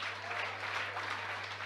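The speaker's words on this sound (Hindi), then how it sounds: "ताली बजा दो।" A seated crowd at a Jain religious discourse claps together in a brief, steady burst of applause, fairly even in loudness, with a low hum running underneath.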